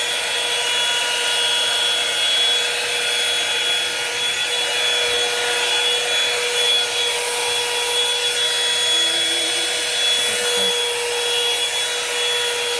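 A blowdryer brush dries long hair with a loud, steady whirring hum that runs unbroken throughout, close up and with no voices.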